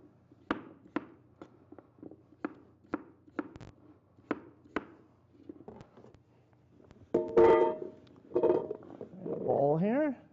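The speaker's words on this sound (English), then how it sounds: "we're just rough chopping this" Rough chopping of vegetables for a pork loin dish, sharp knife strikes on a cutting board in an uneven rhythm, then a burst of nearby kitchen clatter and rustling; people talk in the background throughout.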